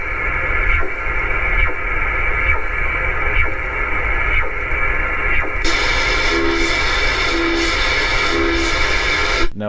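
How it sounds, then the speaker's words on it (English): A CODAR wave-measuring radar signal received on a shortwave radio, heard as a loud, continuous buzzing tone with a regular sweeping pulse repeating about once a second over a bed of static. "CODAR is used for measuring waves, wave speeds, and such like that."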